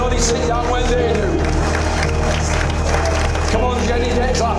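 Wedding guests clapping and cheering as newlyweds enter the reception room at Stirk House, a dense noisy blend of claps, whoops and crowd chatter, loud and close, with low music underneath.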